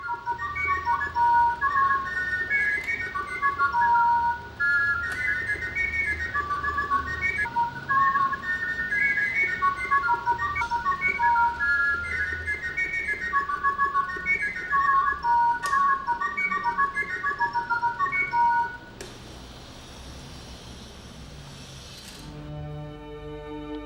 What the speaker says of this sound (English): a whistle with sliding pistons, enabling one to modulate the song of the bird with a single flute